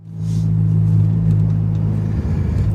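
A car with a newly installed exhaust header idles and pulls away, a steady low engine rumble with a deep droning tone, close and loud, shifting slightly near the end as it moves off.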